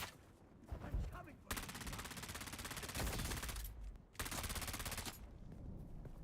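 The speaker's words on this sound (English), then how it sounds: "It's an SMG. It's called the Disruptor" Disruptor SMG gunfire in a video game, long rapid-fire bursts of dense automatic shots separated by brief pauses, loud and close with other game sounds between the bursts.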